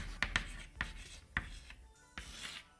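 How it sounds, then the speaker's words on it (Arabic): Marker or chalk writing a question on a classroom board: a few short scratchy strokes and taps in quick succession, close and fairly quiet, with no talking. "رح أكتب السؤال على اللوح"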